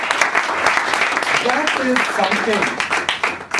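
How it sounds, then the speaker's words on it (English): An audience at an installation ceremony applauds steadily and loudly throughout. Voices can be heard speaking over the clapping. "Let us give Sahil a round of applause for his amazing execution of his duty."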